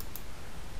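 Computer mouse clicking during AutoCAD drafting work: one brief, close click over a steady background hiss.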